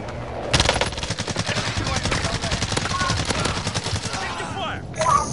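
Sustained automatic gunfire in a video game battle, a loud, fast, even stream of shots lasting several seconds before easing off, with faint voices in the background.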